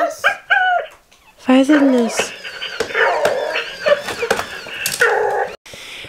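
Dog barking and yipping indoors in short, sharp bursts with some whimpering between them, fairly close and loud, while people talk over and between the barks.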